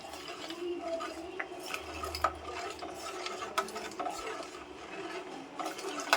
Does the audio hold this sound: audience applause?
no